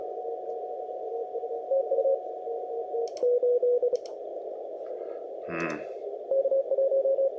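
Morse code CW signal from a Cameroon station on the 10 meter amateur band, heard as keyed tone bursts over a steady hissing receiver hum, with a brief tuning chirp partway through.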